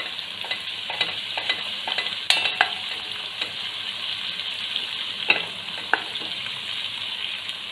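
Ginger garlic paste sizzles steadily in a hot pan as a spoon stirs and scrapes it, with occasional sharp clinks of metal against the pan; no talking.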